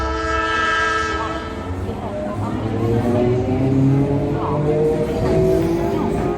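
A train departs with a long, loud, sustained horn blast over the rumble and clatter of moving rail cars. The horn holds steady and close before the train noise continues.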